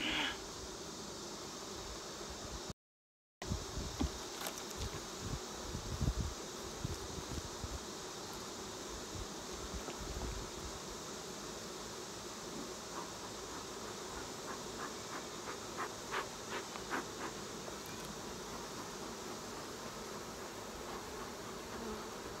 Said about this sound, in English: Look at all the frickin' bees.